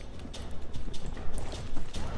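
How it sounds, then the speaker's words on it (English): Horses galloping in the video game Mount & Blade Warband, a quick, uneven patter of hoofbeats and thuds that swells and fades over a rough noisy bed, with no speech. "I hear horses."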